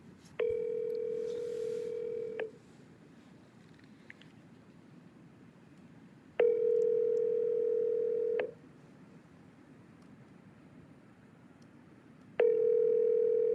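Ringback tone on an outgoing phone call placed in the middle of the night: three steady two-second rings separated by about four seconds of quiet, heard clearly over faint background hiss with no talking.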